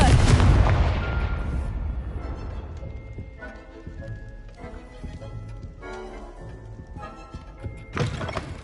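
Confringo spell blast in Hogwarts Legacy, a loud booming explosion at the start that rumbles and fades over several seconds, followed by quieter game music and ambience.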